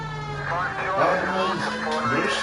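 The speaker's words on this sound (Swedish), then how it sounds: "Ja, men jag hör sirenerna." Sirens wail with rising and falling tones at moderate volume, steady over a muffled background for a couple of seconds.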